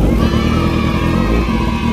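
Motorcycle engine starting and settling into a steady, fairly loud idle nearby, with brief talk in Indonesian around it.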